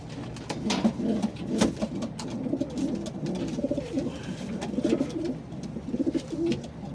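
Pigeons coo repeatedly at close range, with soft, throaty, rolling calls overlapping in an uneven rhythm against a faint background.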